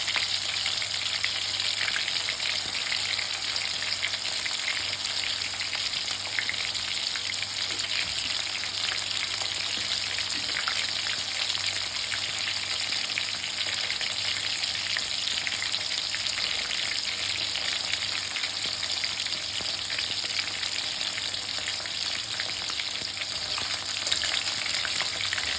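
Soya chunks (meal maker) deep frying in hot oil for soya pepper 65, a dense, continuous bubbling sizzle that stays steady and close throughout, with no talking.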